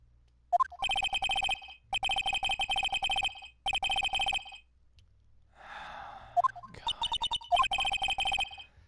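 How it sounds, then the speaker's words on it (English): Cell phone ringtone in the Phoenix Wright: Justice For All video game, playing as repeated loud electronic trilling bursts with short pauses, broken midway by a brief gasp-like sound. "that is a cell phone, and he actually has attached to his wrist"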